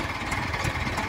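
A tractor engine, an Arjun 605 or Swaraj 744, runs steadily at a low idle with a dense mechanical rumble, loud and close, without pauses.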